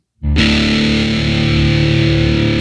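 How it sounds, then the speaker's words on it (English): A loud, distorted electric guitar chord rings out, with a reverb pedal switched on just after, giving a washy, spacious reverb tail that sustains evenly for a couple of seconds. "I click the pedal on for reverb right after I hit it."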